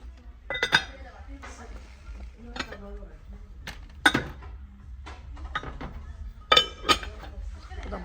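A heavy metal cooking pot lifted and handled in a kitchenware shop, giving sharp clanks and clinks with a few louder knocks, close by, with someone talking between them.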